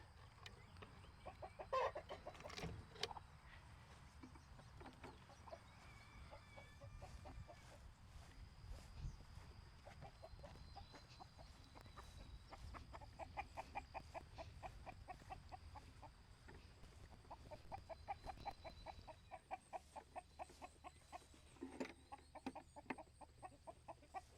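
Chickens cluck and chatter steadily at close range, with a rooster's crow and assorted farmyard bird calls scattered through.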